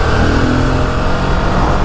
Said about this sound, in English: Engine note is another thing I absolutely love.